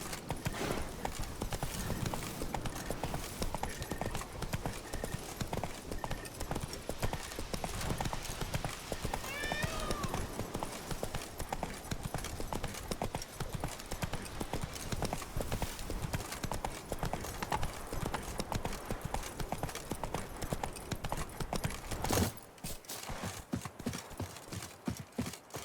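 Horse hooves clip-clopping at a steady gallop in The Witcher 3 Blood and Wine, a dense continuous beat across the whole stretch with brief neighs, ending abruptly into quieter ambience.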